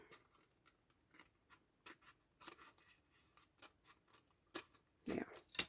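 Scissors trimming the edge of a paper card to fit a windowed envelope, with a series of short, crisp snips and rustles up close, ending in a couple of louder cuts.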